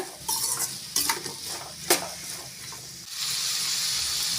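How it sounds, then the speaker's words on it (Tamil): Utensil scraping and stirring carrots in a pan, with a light sizzle and a few sharper clinks against the metal; no one is talking. "நல்லா கலந்து விட்டுக்கோங்க"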